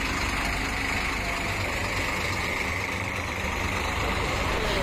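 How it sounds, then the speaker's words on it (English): An EasyJet holiday coach idles at a hotel entrance on the Benidorm strip, a loud, steady low diesel rumble close by that holds constant throughout. "dodging an EasyJet holiday coach, dropping off eager holiday makers at the main entrance"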